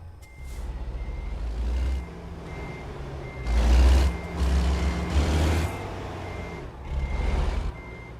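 A truck in a driving video game turns around, its reversing alarm beeping over and over above a low engine rumble, with hissing bursts like air brakes between the beeps.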